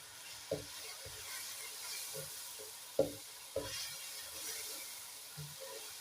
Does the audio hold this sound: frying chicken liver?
yes